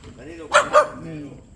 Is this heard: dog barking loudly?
yes